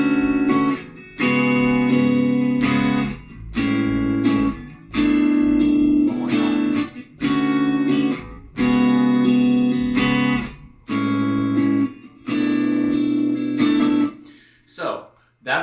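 An effected electric guitar strums a four-chord progression in A, with repeated chord hits in a loose rhythm and short gaps between phrases, close and fairly loud, ending in a few fading notes.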